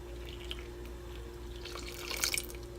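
Water runs and splashes into a pot of rice congee being cooked, a soft trickle that swells into a brighter pouring burst near the end over a low hum.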